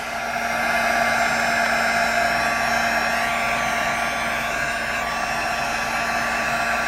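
A heat gun blows a continuous, even whooshing roar at close range while melting a printed design onto a personalized candle, with a steady tone and no pauses.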